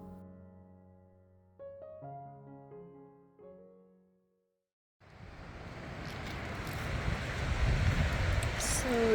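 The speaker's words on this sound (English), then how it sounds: "it's actually pretty windy today" Soft musical notes give way to a rush of wind at Silver Lake campground in the June Lake Loop, steady broadband buffeting that grows louder over several seconds.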